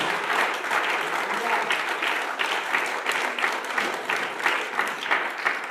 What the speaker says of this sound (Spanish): Denle un aplauso fuerte a la presencia de nuestro Dios.